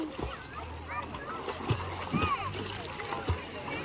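Swimmers splash in the sea, with several short watery splashes and slaps scattered through the clip, close by and mixed with a voice and other chatter.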